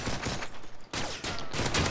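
Gunfire in Call of Duty: Modern Warfare 3, repeated bursts of automatic fire broken by a brief silent gap, fairly quiet overall and with no voices.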